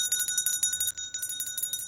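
A small hand bell rings in a hallway as a call to dinner, its bright rapid strikes repeating steadily and close by, with a short pause midway before the ringing resumes.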